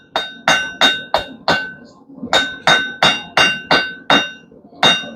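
A blacksmith hammers hot steel on an anvil, about a dozen loud, ringing close blows in a steady rhythm with one brief pause partway through.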